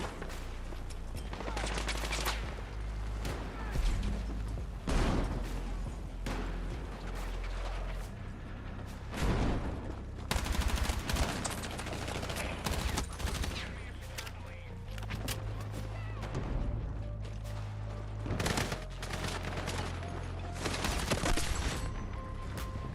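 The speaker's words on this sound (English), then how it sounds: "Where are they shooting them from?" Battlefield 6 battle royale gunfire crackles through, with repeated bursts and sharp shots near and far, mechanical clatter mixed in, and people talking over the shooting.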